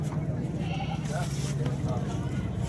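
Goats bleat at a goat market in Tungwali, a few short wavering calls rising over a busy background of crowd murmur and people talking nearby.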